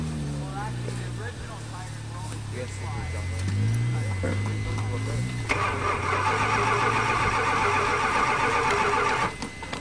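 A 1976 Chrysler New Yorker, left sitting for about three months and infested with bees, cranks over and fires up, settling into a steady, loud rumble with people talking nearby.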